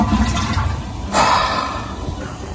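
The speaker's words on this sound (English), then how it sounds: "how about I just flush it down the toilet" A toilet flushes nearby with a sudden rushing surge of water that then settles into a softer gurgling wash, heard alone without talk.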